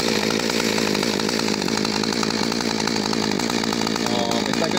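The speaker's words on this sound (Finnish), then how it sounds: "Onhan mulla moottorisaha." A chainsaw runs steadily and loudly close by, rigged to spin a Volvo 700-series electric speedometer for a test, with a constant high whine and no pauses across the whole stretch.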